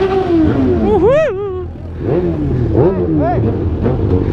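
Motorcycle engines, a Yamaha XJ6, Honda CB1000 or Hornet, one fitted with an aftermarket exhaust tip, rev up sharply in several rising and falling bursts, loud and close, with voices talking underneath.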